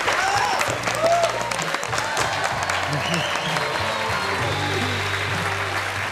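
Studio audience applause at a televised Taiwanese quiz show as a champion is congratulated, a dense steady clapping that fills the whole stretch, with faint background voices and a few brief tonal sounds over it.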